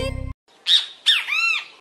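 A bird squawks in two or three sharp, close calls, the last one longer, after a brief buzzy electronic tone and a short silence.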